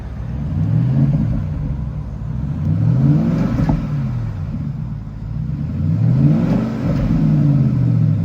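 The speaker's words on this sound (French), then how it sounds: "Vous allez pouvoir entendre le bruit que ça fait un Panamera GTS, mais ça fait un vraiment très beau bruit" A Porsche Panamera GTS engine revs repeatedly, rising and falling in several rumbling sweeps, loud and close with a deep growl.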